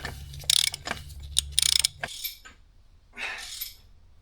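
A ratchet wrench tightens the block heater assembly on a 6.0L Powerstroke engine, giving two quick bursts of rapid metallic clicking followed by softer scraping and a short rattle, close up.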